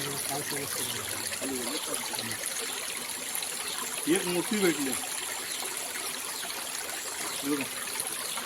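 A mountain stream flows among forest rocks where crabs are caught, giving a steady, close wash of running water throughout, with a voice speaking over it and a few louder voiced bursts.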